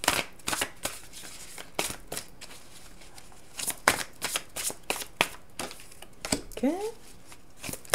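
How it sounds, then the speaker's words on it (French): Tarot cards being shuffled, a rapid run of crisp riffles and slaps close by, with a few words of speech near the end. "On va aller recouvrir avec le tarot des druides."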